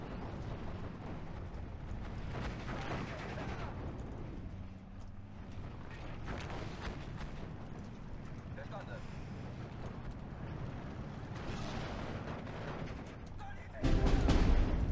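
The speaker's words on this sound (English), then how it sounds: "he's hardcore targeting my AA with his artillery" Artillery shells fire and land in the WWII strategy game Steel Division 2, distant booms and rumbling impacts scattered across a steady battlefield din, with a louder blast near the end and someone talking over it.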